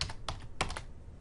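Quick bursts of computer keyboard typing, several crisp keystrokes in two close clusters, near and fairly soft, with no voices over it.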